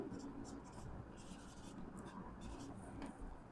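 Chalk or marker scratches across a board in quick bursts of strokes during a thermodynamics lecture on work done in an isothermal process, with low room noise and faint voice traces underneath.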